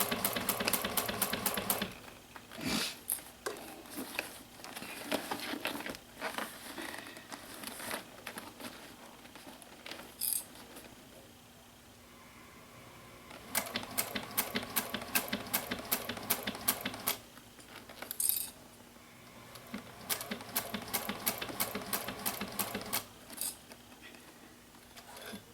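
A sewing machine stitches a tote bag with a zipper panel in rapid bursts of its needle, each run going for several seconds with brief pauses between, close and fairly loud, with no talking.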